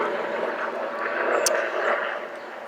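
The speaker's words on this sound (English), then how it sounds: "Sorry, I'm outside. There's an airplane." An airplane passes overhead outdoors, a moderate, continuous distant rumbling whoosh that swells slightly in the middle and eases off toward the end.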